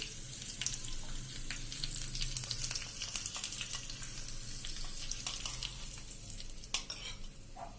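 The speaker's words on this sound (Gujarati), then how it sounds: "હું ઉપર વઘાર રેડું છું." Continuous crackling sizzle of hot tempering oil poured over khandvi, steady and close, with faint scattered pops and a soft clink near the end.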